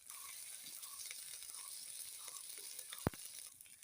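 Mulka pitha dry-roasting without oil in an iron wok, a faint, steady hiss with light crackles and one sharp knock near the end.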